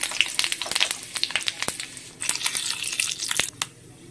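Dried red chillies, bay leaf and five-spice tempering hitting hot oil, giving bright, uneven crackling and spitting pops that flare louder midway and then settle.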